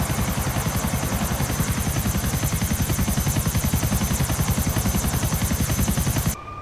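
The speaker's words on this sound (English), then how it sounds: "If you fly close to the water with a chopper, the effects look good in both games." A helicopter in GTA 4 flies low over water, its rotor chopping in a steady, fast, loud pulse with a constant engine whine, continuous until it cuts off abruptly at the end.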